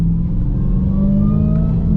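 A supercharged Dodge Challenger Hellcat engine holds a loud, rough idle-level rumble with a slight rise in pitch near the end, close by and continuous.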